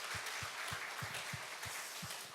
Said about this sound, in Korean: 1시간 기도했던 분들께 우리 격려의 박수를 한번 드릴까요?